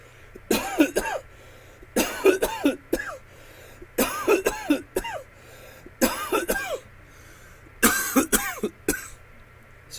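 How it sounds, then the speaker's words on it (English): A person coughs in repeated harsh bursts, about six clustered fits spread evenly across the stretch, close and fairly loud over a quiet low hum, with no talking. "I know my mother can hear me coughing"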